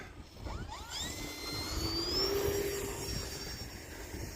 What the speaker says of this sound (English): Now we're going to take off with the flaps on.